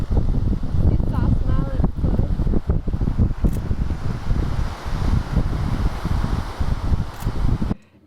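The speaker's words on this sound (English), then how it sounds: "there's wind movement that's blowing on her hair and kind of subtly blowing on the dress" Steady, loud wind blows across the microphone outdoors at a bridal portrait shoot, a continuous rumbling rush that lasts the whole moment before cutting off at the end.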